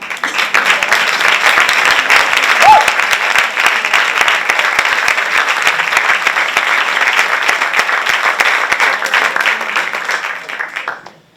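Theatre audience at an amateur theatre award gala applauding in a long, dense, sustained burst that stays loud before fading out at the end, with one brief tonal sound near the start.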